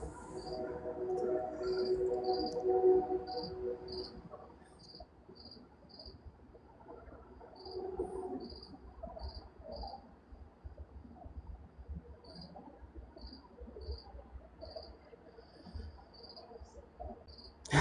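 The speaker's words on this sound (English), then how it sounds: "There's actual crickets going on." Crickets chirp at night in repeated short bright pulses in an irregular rhythm, sounding fairly near, with a soft murmur of talk early on and quiet background rumble.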